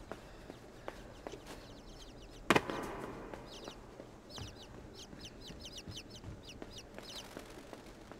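Birds in the video game INSIDE: soft, clucking chicken-like calls in scattered clusters, mostly in the second half, with light footsteps, one sharp loud thump early on and a quiet background.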